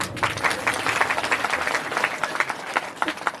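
Audience applause at a Shrimad Bhagavat katha religious discourse, dense sustained clapping from a crowd for several seconds with no talk over it.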